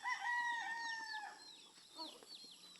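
Chickens in a farm coop, with a rooster crowing and hens clucking in repeated rising and falling calls. The birds are close and clear, and nobody speaks.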